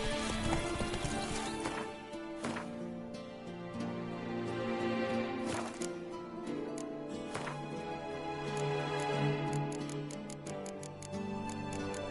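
Roach, Geralt's horse in The Witcher 3: Wild Hunt's Blood and Wine expansion, clip-clops steadily in a trotting rhythm with an occasional whinny, set against a dense, continuous game music bed.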